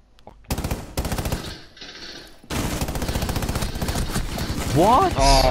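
Loud automatic gunfire rattles in rapid bursts during a video game match, a short volley followed by longer sustained fire, with someone talking over the shots near the end.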